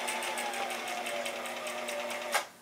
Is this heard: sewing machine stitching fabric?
yes